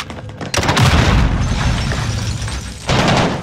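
Loud, dense gunfire and booming blasts fill a Call of Duty: Warzone match, a sniper rifle shot among them, with a sharp onset after a brief lull and another burst near the end.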